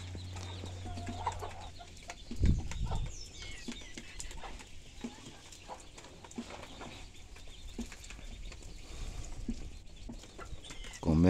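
Free-range chickens cluck and mutter nearby over a soft outdoor background, with a few louder squawks breaking through now and then.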